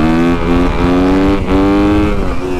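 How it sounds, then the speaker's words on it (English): A motorcycle with its stock exhaust revs hard, its engine note climbing and dipping through several throttle blips in a loud, close, continuous burst with no talking. "the stock exhaust, it actually sounds pretty damn good"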